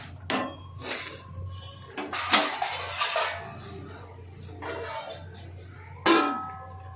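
A metal lid is handled and set onto a pot of biryani cooking in a home kitchen, giving several sharp clanks and scrapes spread over the stretch, with a final bright clatter near the end.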